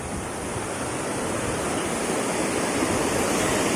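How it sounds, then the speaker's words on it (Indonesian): Clear spring water from the Wilis mountains rushing steadily, a dense continuous broadband wash close by with no breaks and no talking. "Air ini dari sumber air dari pegunungan Wilis ya yang di atas sana"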